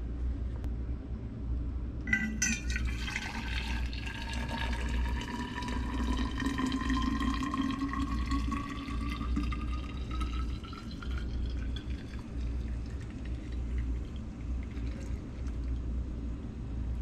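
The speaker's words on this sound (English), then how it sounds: "So let's pour our coffee in there and see what happens." Coffee is poured into a cold metal thermos, starting with a sharp clink and then a steady liquid fill whose tone rises as the vessel fills, over a low background rumble.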